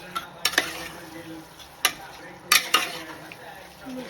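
Spicy chicken fry being stirred in a pan, a few sharp spoon scrapes and clinks against the metal over a faint, steady background, with quiet gaps between the strokes.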